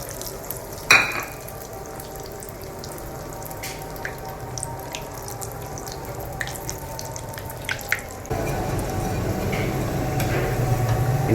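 Potato cheese balls frying in hot oil give a low, continuous bubbling sizzle with scattered ticks and a sharp clatter near the start, then a louder, denser frying surge once more balls go in; no voices.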